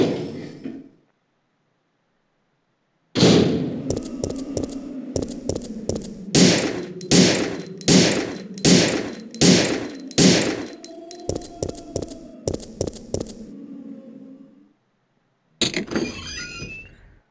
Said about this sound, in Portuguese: uma rocket launcher com duas munições, dois disparos